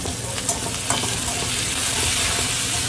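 Onion and green chili frying with turmeric in a pan, a dense, steady sizzle close up with a couple of light stirring knocks near the start, no talking.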